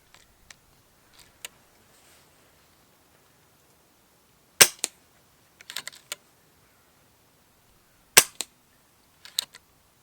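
An FX DRS Classic 600 .22 air rifle firing pellets, sharp close cracks in two clusters with a few quieter clicks and mechanical clacks of the action cycling between them, in otherwise near-silent surroundings.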